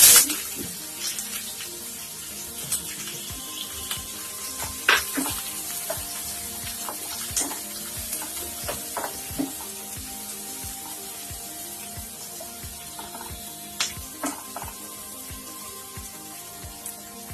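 Onions and cumin with a pinch of asafoetida fry in oil over high flame for egg bhurji, giving a steady close sizzle with scattered pops and a few light utensil clicks.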